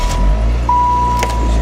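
A 1998 Saturn SC1 car engine cranks and catches, settling into a steady running rumble with a faint high whine over it.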